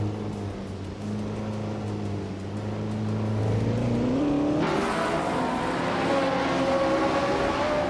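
Race car engines from an AI race in a video game, one being a 1965 Brabham BT7, drone steadily and then rise in pitch as they accelerate, with a louder, brighter surge midway through.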